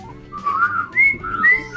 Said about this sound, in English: That's me whistling.